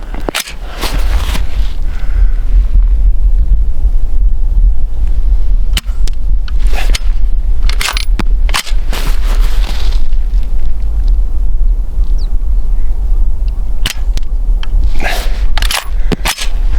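Subsonic 5.56/.223 handloads are fired from a rifle outdoors, giving several sharp, sudden reports spread across the stretch over a constant loud low rumble of background noise.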